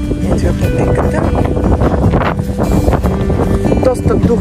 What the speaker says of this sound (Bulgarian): Доста духа, но пък иначе щяхме да умрем от жега.